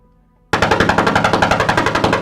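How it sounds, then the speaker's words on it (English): Automatic machine gun fire played as a sound effect during a tabletop horror RPG session on Roll20, a loud continuous rapid burst of evenly spaced shots that starts abruptly after a short silence. "you lose control of the automatic machine gun fire"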